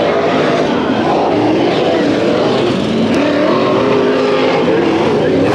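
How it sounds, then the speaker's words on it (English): IMCA Modified race cars roar through a heat race at Bakersfield Speedway, a dense, continuous engine drone with rising and falling revs, loud and unbroken, with faint voices mixed in. "we call upon the final heat race, the IMCA Modifieds"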